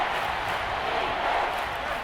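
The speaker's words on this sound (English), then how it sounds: "This crowd turning up the decibel level." A stadium crowd roars in a Madden NFL game between the Philadelphia Eagles and New Orleans Saints, a steady, dense wall of noise at even loudness throughout.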